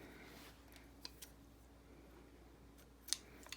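A few faint, quiet snips of scissors cutting thread on a hand-sewn junk journal spine, isolated clicks spread over a few seconds with no talking.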